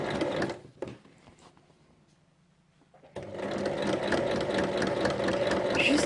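Sewing machine stitching a pocket onto a backpack, running in a fast, loud whir, pausing for a quiet stretch with a faint hum, then whirring again steadily.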